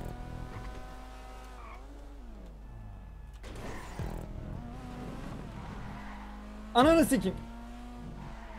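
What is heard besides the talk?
cars racing and skidding in GTA V video game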